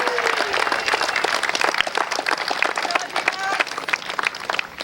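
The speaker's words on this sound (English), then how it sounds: "let's give a round of applause to the American and National champions for the MAPS division" A crowd applauds and cheers for the youth baseball team crowned American and National champions of the MAPS division, sustained and fairly close, with voices shouting through the clapping.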